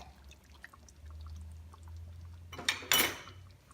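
Coconut milk poured into a pot of oxtail kare kare with beef tripe, a short close splashing pour after a low hum, with no talk.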